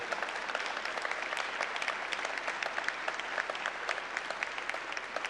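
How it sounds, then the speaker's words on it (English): Sustained applause from a civic audience at a mayoral swearing-in of new city board and commission appointees, steady dense clapping throughout with no talk over it. "a big round of applause"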